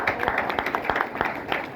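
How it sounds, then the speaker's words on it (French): An audience at a conference in Africa applauds warmly, with dense, continuous clapping from many hands at moderate loudness throughout. "Je vous demande d'applaudir, mais chaleureusement"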